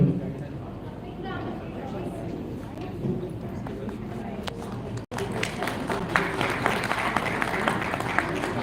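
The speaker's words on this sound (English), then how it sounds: "Ladies and gentlemen, a big round of applause." A conference audience at a national event on responsible business conduct applauds a panel, with a broad wash of clapping rising in the second half under a speaking voice and chatter.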